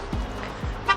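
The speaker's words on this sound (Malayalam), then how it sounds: "എന്താ ഹോൺ അടിച്ച് കളിക്കുന്നു." Car horns toot twice in quick succession in New Year's Eve traffic in Ras Al Khaimah, UAE, the short honks sounding close against a steady background hum.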